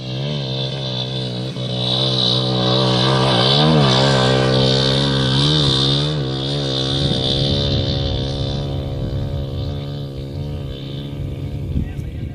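Motorcycle engines run on the Cholistan desert rally track, a steady droning roar with shifting pitch as the bikes rev and pass, fairly loud throughout with a rougher, closer rumble near the end.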